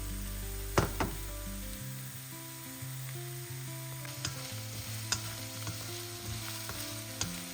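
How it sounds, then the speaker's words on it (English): Onions frying in a pan for Goan prawn curry, a quiet continuous sizzle with occasional clicks and utensil taps over a low kitchen hum, no voices. "We'll cook this onion until it's slightly translucent."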